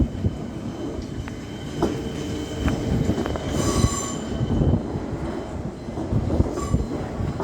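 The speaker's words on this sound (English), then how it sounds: "Metro trains" Melbourne Metro train at Frankston Station, the end of the line, rolling in with a steady rumble, wheel squeal and a few sharp clanks at moderate distance, no voices.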